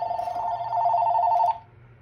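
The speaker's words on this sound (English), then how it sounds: "Ooh, sorry, the phone is ringing." A landline telephone rings indoors, one steady loud electronic trill lasting about a second and a half before cutting off abruptly, heard alone with no talking.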